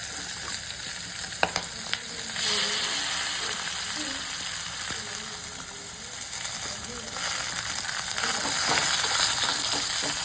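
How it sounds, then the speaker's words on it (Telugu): Ridge gourd pieces fry in a pan on medium flame, a steady close sizzle running throughout with a few scraping knocks of stirring, faint background voices underneath. "బీరకాయ ముక్కల్ని ఉడికేంత వరకు మధ్య మధ్యలో కలుపుకుంటూ వేయించుకుందాం"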